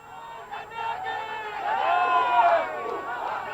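Crowd celebrating India's T20 World Cup win over Pakistan at Laxmi Bhavan square in Dharampeth, Nagpur: a steady mass of cheering and shouting voices that builds midway, heard at a moderate distance.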